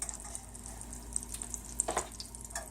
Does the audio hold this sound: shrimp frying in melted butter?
yes